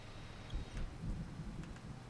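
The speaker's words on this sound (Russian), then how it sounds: "Дождь вообще ужасный" Steady rain hisses throughout while low thunder rumbles softly underneath in the video game SnowRunner, with no voices.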